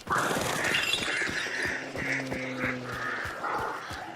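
Harsh cawing calls of crows in the Hunt: Showdown game, several rough squawks in irregular bursts over an outdoor ambience of wind and faint rustling.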